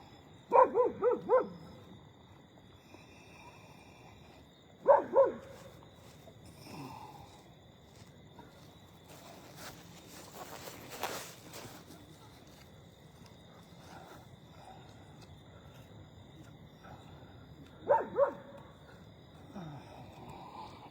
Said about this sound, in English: The dog again is on the run.